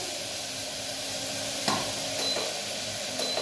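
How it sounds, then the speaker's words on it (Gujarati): Vegetables for Gujarati undhiyu sizzle in hot oil tempered with mustard seeds, cumin and asafoetida, a steady close frying hiss with a few brief stirring clatters. "તો આપણું શાક વઘારાઈ ગયું"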